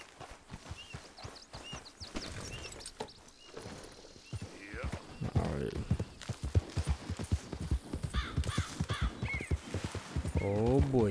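Clip-clop hoofbeats of a horse in the Red Dead Redemption video game, a walking rhythm under a voice, with snorts and a brief whinny, growing louder toward the end.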